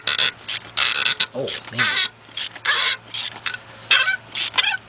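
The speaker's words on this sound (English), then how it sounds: "So get my 3/8 drive ratchet." A 3/8 drive ratchet works on a 2007 Ford Focus 2.0 engine during spark plug and valve cover gasket work, giving repeated close bursts of rapid clicking with short pauses between them. Someone speaks briefly partway through.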